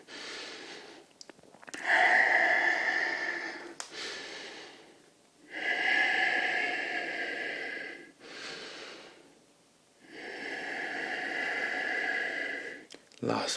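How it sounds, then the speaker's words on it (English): Slow, deep breaths drawn in and let out during a held Ardha Hanuman yoga pose, three long airy exhales close to the mic, separated by quieter inhales. "come to your Ardha Hanuman for 3 breaths. Inhale and exhale."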